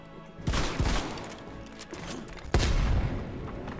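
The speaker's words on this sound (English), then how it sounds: "I tried throwing a grenade at the wall" Grenade explosions in a Call of Duty Cold War match, thrown against a wall: two loud booming blasts, one near the start and a sharper one later, each trailing into rumbling debris and ambient gunfire-like crackle.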